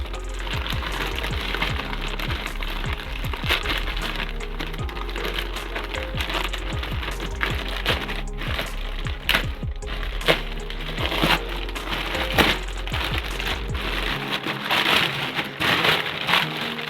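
A hard-packed parcel is opened close by: continuous crackling, rustling and tearing of packing material, with many small sharp clicks and snaps scattered throughout, moderately loud and steady, with no talk.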